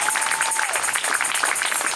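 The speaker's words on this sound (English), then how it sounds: "Now you can clap for that. You can clap for that." Crowd at an outdoor protest gathering clapping together, a fairly loud continuous patter of many hands with a brief whistle-like tone near the start and no talk over it.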